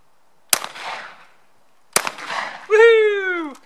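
Two sharp shotgun blasts about a second and a half apart at a clay target shoot, each with a short decaying rumble, followed by a loud whooping shout.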